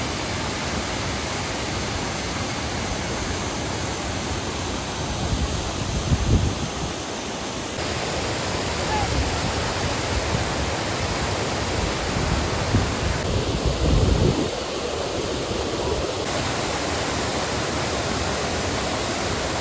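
Floodwater pours steadily over the edge of a brimming village pond after heavy monsoon rain, a dense, unbroken rushing wash heard up close for the whole stretch, with no voices.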